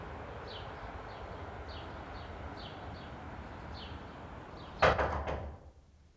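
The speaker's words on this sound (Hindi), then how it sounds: "हमारे दरवाजे की आवाज है।" A house door opens with a sudden loud clunk and rattle. Faint ticking and soft room noise come before it, and the sound fades quickly afterward.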